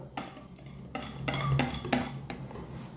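Cake batter for a chocolate cake being stirred with light movements, a utensil tapping and scraping against a bowl in several soft knocks close by, no voices.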